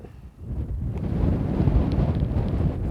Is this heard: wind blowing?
yes